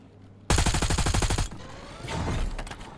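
A burst of rapid automatic gunfire in the video game Call of Duty: Warzone rattles loudly for about a second, then fades into echoing reverberation and further distant shots.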